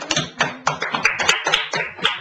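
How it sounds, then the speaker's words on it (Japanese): Applause from a church congregation at a harvest thanksgiving service, with irregular bursts of clapping running steadily for a couple of seconds, fairly close. "皆さん、神様に感謝の拍手を捧げたいと思います。"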